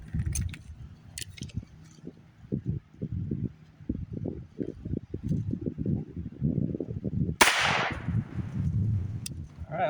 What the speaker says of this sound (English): We will be shooting the Wide Earp Edition Heritage with this.